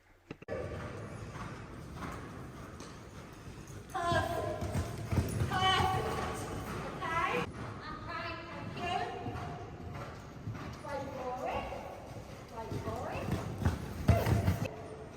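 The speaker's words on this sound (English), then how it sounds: "So we're coming round again in a nice canter." Hooves of a horse cantering around a show-jumping lesson arena, a steady rhythmic clip-clop running through the whole stretch, with people talking over it.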